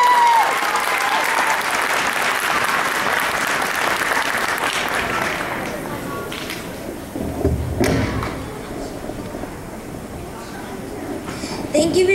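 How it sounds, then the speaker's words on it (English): Audience applause at a school talent show, a dense wash of clapping from a large crowd that swells loudly at first, then thins and fades with scattered claps and murmuring. "Please give our performers and MCs another big round of applause."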